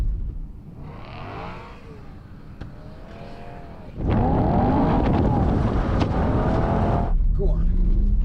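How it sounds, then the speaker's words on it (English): A BMW M3 E92 with its 4-litre V8 engine revs, rising in pitch at first, then settles into a louder sustained roar with gliding engine tones and wind noise across the microphone. "The BMW M3 E92 V8 4 litre."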